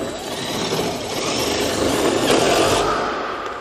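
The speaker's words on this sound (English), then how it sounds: "I would recommend using a screw gun and this adapter to really speed up the" A screw gun fitted with a socket adapter cranks down an RV trailer's stabilizer jack, giving a steady, continuous whirring drive close by for several seconds, swelling slightly in the middle and easing off toward the end.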